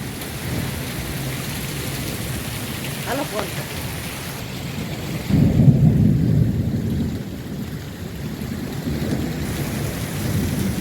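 Storm in Bagasara with heavy rain and hail: a constant loud wash of rain with a deep rumble of thunder swelling in the middle, and a voice briefly audible early on.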